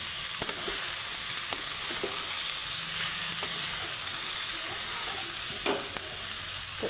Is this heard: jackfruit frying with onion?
yes